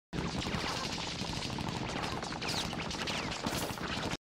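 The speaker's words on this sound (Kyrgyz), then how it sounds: "Бир мезгилде каармандарыбыз тарапка мылтыктардын октору жайт" Gunfire sound effect with bullets flying, a dense continuous burst of shots and whizzing impacts that runs loud and steady for about four seconds, with no voices.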